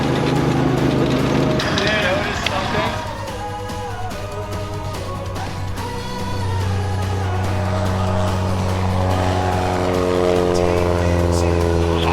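Paramotor engine running on low power while the pilot kites the wing overhead, a steady buzzing drone with shifting pitch that rises near the end, loud and close, with music or talk underneath.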